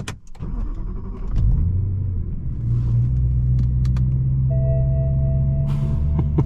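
A BMW E92 M3 with a manual gearbox and a 4.0L V8 starting to drive off, a deep steady engine rumble close up after a brief clunk at the start, with faint clicks and chimes over it.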